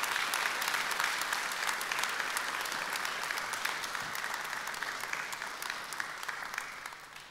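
Sustained applause from a seated audience at a city awards ceremony in Košice, steady dense clapping that slowly fades toward the end.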